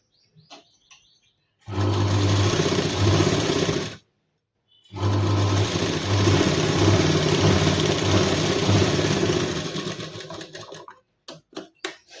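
A sewing machine stitches a tuck on a blouse in two steady runs, a short burst and then a longer one, with a brief pause between. A few light clicks of handling come before and after.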